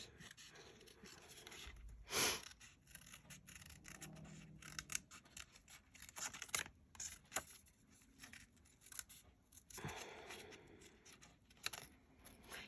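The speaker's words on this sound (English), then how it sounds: "let me get my little scissors and show you what I had in mind" Small scissors snip and rasp through paper for collage tags in irregular bursts, with soft rustling and handling noises between the cuts, fairly quiet and close.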